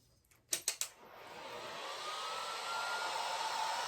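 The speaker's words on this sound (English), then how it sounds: "heat gun" A heat gun blows hot air over alcohol ink, starting after a few sharp clicks and building into a steady, rushing whir that grows slightly louder and holds to the end.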